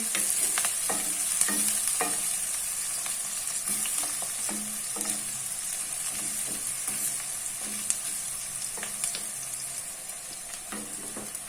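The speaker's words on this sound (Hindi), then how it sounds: "अब मैं इसको लाइट ब्राउन करूँगी।" Onions sizzle steadily in a hot pan, with repeated scraping and stirring clatters from a utensil, close and continuous without speech.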